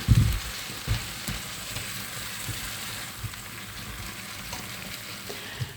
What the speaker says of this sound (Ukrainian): висипала капусту до сосисок. Зараз буду її смажити